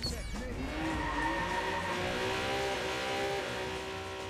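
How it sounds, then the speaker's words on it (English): A car in the video game Watch Dogs 2 revs and accelerates with squealing tires, a continuous engine whine rising in pitch over game noise, with a voice talking briefly early on. "Oh god, there's that car."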